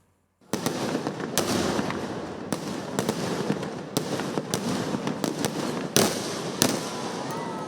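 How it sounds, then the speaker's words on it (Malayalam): Fireworks at the Thrissur Pooram sample display boom and crackle without pause, a dense roaring wash punctuated by sharp louder bursts every second or so, heavy and continuous throughout. "വിണ്ണിലും വർണ്ണക്കാഴ്ച വസന്തമൊരുക്കി തൃശൂർ പൂരം സാമ്പിൾ വെടിക്കെട്ട്"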